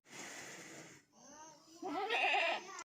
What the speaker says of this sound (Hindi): बकरी मम्मी के करीबन 2 बच्चे पैदा हुए हैं, तो वो अपने बच्चों को बेचारी बुला रही है।